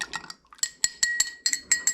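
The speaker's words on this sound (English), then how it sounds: "I'm going to stir that up just a little bit." A cocktail with Angostura bitters is stirred in a glass, giving a quick run of bright clinks and taps, close and fairly loud, about a dozen in two seconds with no talking.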